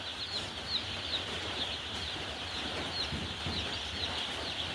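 Four-day-old chicks with a hen, a steady chorus of high peeping and soft clucking close by, continuous and fairly loud throughout.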